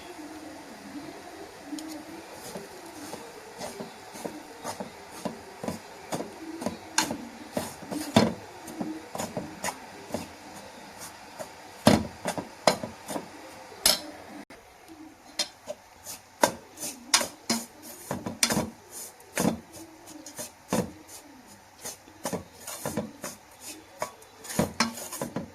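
Rice flour being dry-roasted in a pan for sweet kozhukattai, a spoon or spatula scraping and clinking against the metal pan in irregular bursts, fairly close and quiet.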